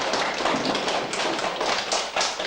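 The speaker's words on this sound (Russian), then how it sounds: "Молодец, Юрика, похлопали" Audience applause at a children's New Year party, a dense, steady patter of many hands clapping close by for the full length, with no speech over it.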